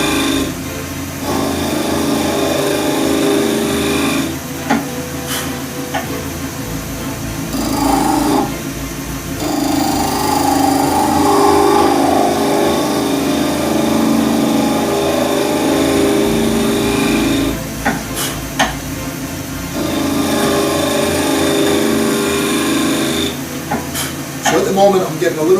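A wood lathe turning a hybrid acrylic and burl shaving brush blank, a steady close whirring hum with tool cuts rising and falling, brief pauses and a few sharp scraping bursts.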